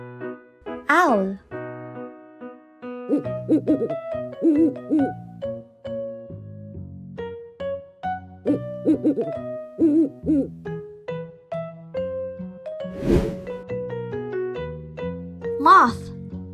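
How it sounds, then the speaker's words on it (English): An owl hoots a few times among bursts of children's-program music, brief calls standing out clearly over the melodic backing. "Owl."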